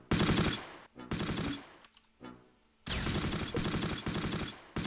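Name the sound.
gunfire and anti-tank attack in Close Combat video game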